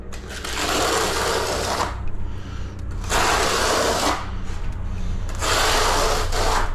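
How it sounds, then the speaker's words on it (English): A worn 15mm notched trowel scrapes in long directional strokes toward a strip drain during tiling, giving three separate rasping bursts with short pauses between them, close and steady. "Directional troweling to a strip drain is a biggie."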